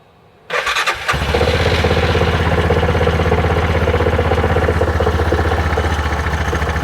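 A 2021 Axis 500 utility vehicle engine cranks briefly, catches, and settles into a loud, steady, close idle with an even rhythmic thrum.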